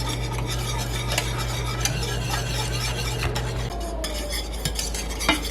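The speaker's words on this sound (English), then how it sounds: "We are just going to stir this for 10 to 15 minutes until it gets thick like a pudding." A spoon stirs chocolate pie filling as it thickens to a pudding in a pan, making continuous close scraping and soft clinking over a steady low hum.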